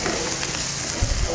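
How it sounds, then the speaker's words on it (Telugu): Grated green chillies fry in oil for a Bengali-style potato chop, a brief, close, continuous hiss with a soft stirring thump near the end. "కాస్త పచ్చిమిరపకాయల తురుము బాగా వేయించుకుందాం."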